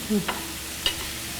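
Vegetables with salt and turmeric being stirred in a pan, a few brief scraping strokes over a soft, low frying hiss, close and fairly quiet.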